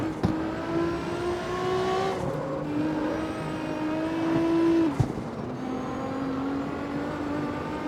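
Nissan GT-R engine revving hard at high RPM in the CarX Street racing game, a sustained strained engine tone rising and dipping with gear changes, loud and alone without talk.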